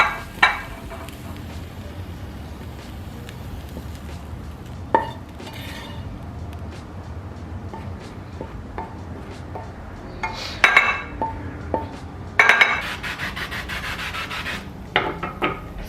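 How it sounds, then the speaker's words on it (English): A utensil scrapes and stirs shrimp, rice and veggies in a cooking pan, making irregular rubbing strokes with occasional sharper metallic clinks and clatters that grow busier toward the end. No one speaks. "and then I'm gonna throw my veggies in"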